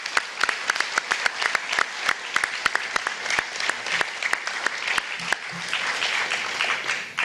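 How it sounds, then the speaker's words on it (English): Audience applause at a historic preservation awards ceremony: distinct, crisp hand claps from a modest crowd, starting scattered and filling into a steadier patter before thinning out. "So I'd like to have a round of applause for my partner, Andy, please"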